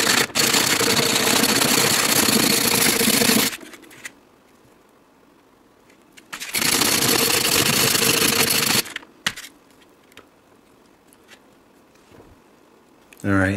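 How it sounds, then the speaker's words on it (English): Grinding the rim of a metal can down on a sharpening stone makes two long, loud bursts of harsh abrasive scraping, each followed by a quiet pause with small knocks. "you see how it's grinding down that lip?"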